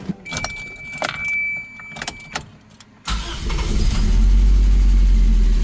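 Keys jangle close by, then a 1998 Toyota Tercel's starter briefly cranks and the engine catches, rising into a loud, steady idle.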